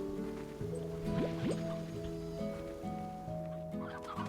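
Magic water shot at plants in Slime Rancher, wet dripping and squishing liquid sounds over a tonal game music bed, with a couple of quick swooping splashes, moderately quiet.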